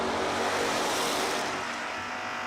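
Drag racing cars, including an 83 Camaro, roar loudly down the strip in a sustained broadband engine blast that eases slightly toward the end, with no voices.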